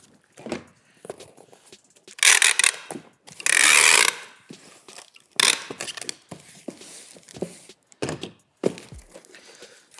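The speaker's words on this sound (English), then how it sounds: "You're gonna tape it." A cardboard shipping box for an Amazon FBA shipment being sealed with packing tape: a few loud, sharp tape screeches as strips are pulled off the roll, mixed with close handling clatter and thumps.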